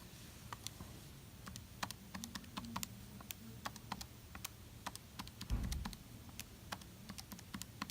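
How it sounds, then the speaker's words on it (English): Rapid keypad presses on a calculator during homework working, a steady run of light, sharp clicks with irregular rhythm, close and fairly quiet, with no talking. "a lot of just calculator work here. Just making sure I type everything in good."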